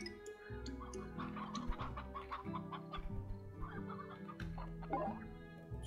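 Chickens cluck in the video game Slime Rancher, with a steady run of close, overlapping clucks and short squawks over a low background hum.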